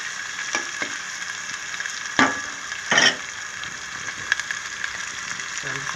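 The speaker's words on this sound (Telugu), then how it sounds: "సౌండ్ కూడా మనకి వస్తుంది. బాగా ఇది ఫ్రై అవుతుందంట ఆపిస్తున్నాను." Food fries in oil in a pan with a steady, close sizzle, broken by a few louder spits and utensil clinks.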